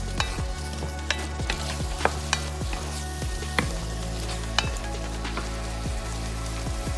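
Squash chunks are stirred through a sizzling pot of braised oxtail stew, a steady frying hiss broken by repeated scraping and clinking strokes of the spoon against the pot, close and alone.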